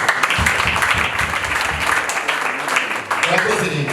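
Wedding guests applaud at a celebration, a dense, steady burst of clapping with voices mixed in throughout.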